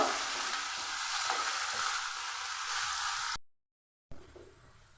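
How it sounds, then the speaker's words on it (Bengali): Steady, loud sizzling of potatoes frying in hot oil with salt and turmeric, continuous for several seconds before cutting out briefly, then resuming more quietly. "আলুটা ভেজেই নিতে হবে"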